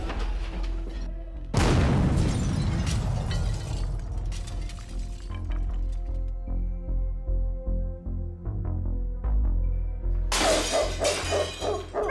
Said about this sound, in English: People breaking into your side window of your car and stealing your goods